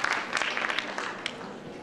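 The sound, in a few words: audience applause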